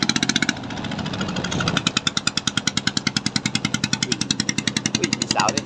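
A modified motorcycle exhaust idles close by with a loud, choppy, rapid pulsing that throbs steadily throughout, with a voice talking briefly over it near the start.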